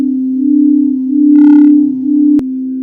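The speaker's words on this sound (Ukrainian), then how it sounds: "Кришталеві чаші це справжній музичний інструмент." A crystal singing bowl sustains one pure, steady tone that swells and fades gently, with a brief higher shimmer and a soft tap near the end.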